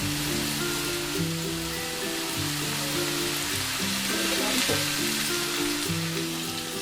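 Steady crackling sizzle of doughnut sticks frying in hot oil, dense popping and bubbling throughout with no talking.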